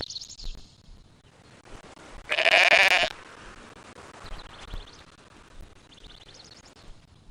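A loud, wavering sheep bleat in the video game Black & White rings out once over a steady bed of ambient noise, with faint chirping sounds drifting in and out.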